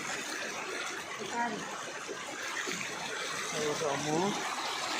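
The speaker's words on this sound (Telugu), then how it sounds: "ఆ కాలం నిండిపోయి కాలంతో నుంచి వస్తున్నాయి నీళ్ళు" Floodwater gushes steadily from an overflowing drain during heavy rain flooding, a continuous rushing flow heard at moderate distance while a person talks over it.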